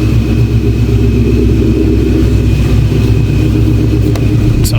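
A Ford Cobra's engine drones loudly and steadily from inside the car while accelerating on a test drive, a constant mid-pitched rumble with road noise beneath it.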